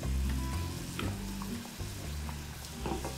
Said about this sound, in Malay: Masak sampai lemah mendidih.